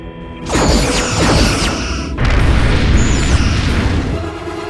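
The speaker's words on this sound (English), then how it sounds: "Captain, we're under attack." Heavy sci-fi explosion effects on a starship under weapons fire: two loud, booming blasts with rumbling debris and sweeping tones, the second hitting after a brief lull and sustaining a dense roar.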